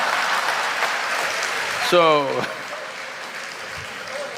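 Audience applause at a talk continues as a broad, moderately loud patter while someone speaks over it in a short, rising phrase.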